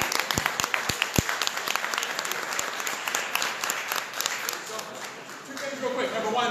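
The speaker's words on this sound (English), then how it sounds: "So could you give them a round of applause?" An audience breaks into a full round of applause, opening with a few sharp, distinct claps that swell into dense, sustained clapping, with some voices and light laughter mixed in.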